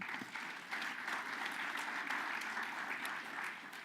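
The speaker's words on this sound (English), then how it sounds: "Again, a round of applause for them." Conference audience applauding event sponsors, a steady, even patter of many hands clapping at a moderate distance, sustained for several seconds without talk.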